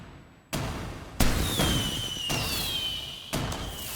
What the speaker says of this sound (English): I think I deserve more fireworks